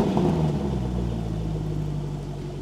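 A Range Rover Sport SVR engine fires up with a deep, loud rumble that settles into a steady, throbbing idle, close by with no talking.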